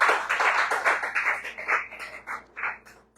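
A church congregation at a teaching session claps in quick, rhythmic bursts that pulse evenly and gradually soften and spread out toward the end, with no voices over it.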